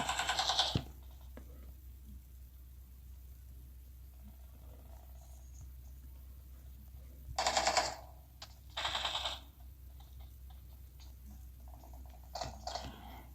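Distant bursts of rapid automatic gunfire in the video game PUBG (Battlegrounds) rattle out in a few short volleys over a quiet background, with no talking.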